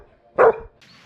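A one-year-old puppy gives a single sharp, loud bark close by on a lakeside trail walk, followed by quiet and faint rustling.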